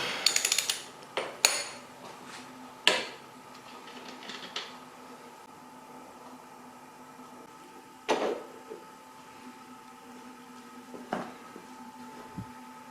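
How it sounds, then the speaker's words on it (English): Metal tools clink and tap while a nut is worked off a Triumph Bonneville steering head, sharp close knocks and ratcheting clicks scattered irregularly over a quiet workshop hum. "the first thing we want to do is get this nut off"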